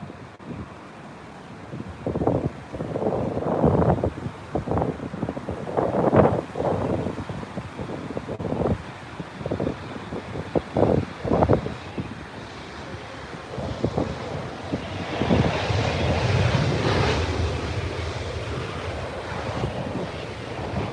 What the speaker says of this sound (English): it is a very windy Heathrow show today